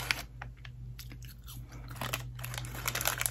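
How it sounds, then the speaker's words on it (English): Someone chews a pink marshmallow up close, soft wet bites and mouth sounds over a steady low hum, with no talking. "I have to have a marshmallow."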